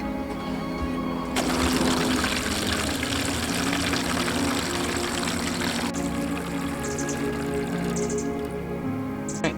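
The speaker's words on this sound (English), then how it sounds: "We're gonna put water in these trays and let it wick into the pots." Water pours steadily into plant trays holding pots, a continuous rushing splash that runs for several seconds, then gives way to fainter trickling and drips.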